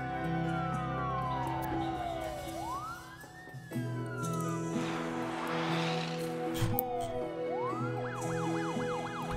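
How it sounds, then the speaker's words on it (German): An ambulance siren in the city-building game SimCity wails in rising and falling sweeps over a steady layer of game music and city ambience, moderately loud, with no talking over it. "Es fährt ein Krankenwagen gerade rum."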